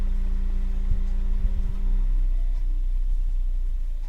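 A loud car engine rumbles steadily nearby, a deep low drone that holds firm with a tonal hum fading around the midpoint, alone without speech.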